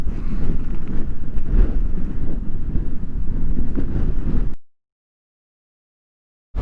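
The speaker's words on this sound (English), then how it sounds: "It is windy up here" Strong wind buffeting the microphone at the summit of Guanella Pass, 11,669 feet up, a loud continuous low roar that cuts off abruptly into silence near the end.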